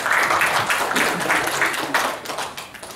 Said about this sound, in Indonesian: Kita kasih aplaus untuk Bapak Aris.